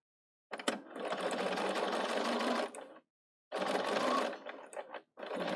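A Bernina 770 sewing machine stitches fabric in two sustained runs with a brief pause between, then starts again, its steady motor hum and needle chatter close and clear.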